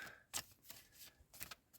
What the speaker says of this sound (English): We're going to give these a shuffle up